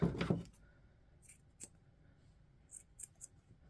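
Scissors trimming yarn on a finger-knit rose garland: a rustle up close, then a few faint, sharp snips spaced apart in a quiet room.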